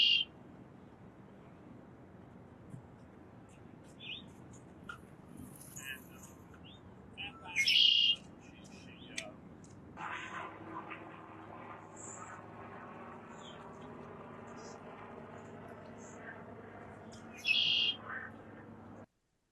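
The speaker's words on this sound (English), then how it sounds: "these birds also sing, and you can see this bird singing, moving through the marsh" A bird in a marsh repeats a short, bright call a few times over a low hum of distant traffic and a faint drone, with open space around it.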